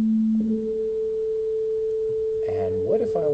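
A pure sine-like test tone passes through a delay-line pitch shifter and jumps an octave, then holds steady and clear before a voice starts talking over it near the end.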